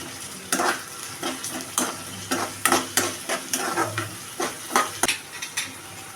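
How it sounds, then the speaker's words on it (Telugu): Onions and ginger fry in a pan for dhaba-style bhindi masala curry, with a lively sizzle broken by rhythmic, close spoon scrapes and clinks against the pan roughly every half second. "ఇలా ఆనియన్స్ కొంచెం ఫ్రై అయ్యాక ఒక టేబుల్ స్పూన్ అల్లం ఫ్రై చేయాలి"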